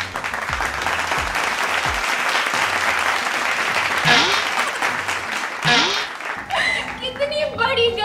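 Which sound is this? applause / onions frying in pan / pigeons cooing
applause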